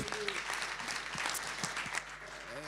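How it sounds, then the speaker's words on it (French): Warm applause from a business conference audience at a regional investment event, steady dense clapping throughout with a few sharper individual claps standing out. "On peut l'applaudir chaleureusement"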